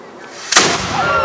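A muzzle-loaded cannon fires at a Sealed Knot reenactment in Stockwood Park, Luton, giving one sharp, loud outdoor blast that rings on into a spreading roar. There is no talk over it.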